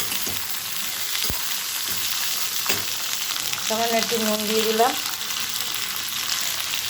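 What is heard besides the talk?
yardlong beans with green chilies frying in pan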